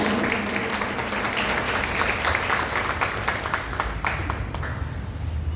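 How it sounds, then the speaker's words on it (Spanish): Audience applause at a presentation of braille books in a municipal hall, a steady dense wash of many hands clapping together for several seconds. "Un aplauso por favor"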